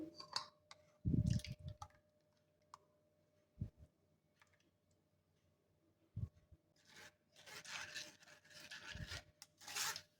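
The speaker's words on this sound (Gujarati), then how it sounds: "હવે આપણે અહીંયા એક ગળણી લીધી છે તો જે આપણે અહીંયા ટામેટા પીસ્યા છે એને આપણે અહીંયા ગળણીથી આપણે ગાળી લઈશું" Ground tomatoes being pressed and rubbed through a kitchen sieve for tomato soup, giving intermittent wet scraping and rasping strokes with soft squishy clicks, close and fairly quiet, with no talking.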